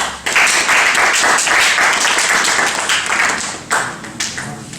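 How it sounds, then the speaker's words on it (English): A crowd applauds loudly for several seconds, dense clapping that fades briefly near the end before a few final bursts. "Give them a round of applause."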